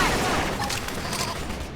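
Rapid gunfire and combat bursts from the video game Xenoblade Chronicles X, a dense, loud volley of crackling shots and impacts layered with battle effects throughout the short span.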